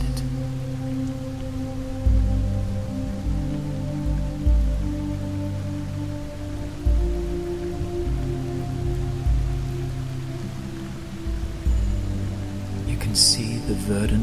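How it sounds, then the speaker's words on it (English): Rain pouring down steadily around a canopy, a dense hiss of falling drops with occasional heavier thumps and a low rumble underneath, continuous and close. "watching the rain pour down outside it"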